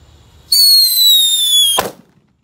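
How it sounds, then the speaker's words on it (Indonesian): A jumbo firecracker's high, piercing whistle shrieks for about a second before ending in a sharp, loud bang, followed by quiet. "ngabuburit nyumet mercon banter."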